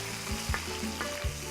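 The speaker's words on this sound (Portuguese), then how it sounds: "Agora nós vamos jogar o bacon." Bacon tossed into a pan with garlic fries with a steady sizzle, close and moderately quiet, with a few stirring scrapes and no talking.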